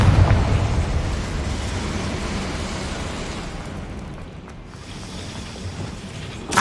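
Confringo spell cast in Hogwarts Legacy: a loud fiery blast bursting up front, then a long rumbling roar fading over several seconds before a sharp crackle at the end.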